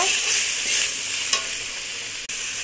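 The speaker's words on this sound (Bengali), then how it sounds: "এবার মাংসের পিসগুলো দিয়ে দেবো কুচি কুচি করে রাখা। তোমরা ভিডিওটা দেখতে থাকো। আমি একটু কষিয়ে নেব।" Finely chopped meat pieces fry with spices in a pan, giving a loud, close, continuous sizzle with one brief scrape of stirring and a short click near the end; nobody talks.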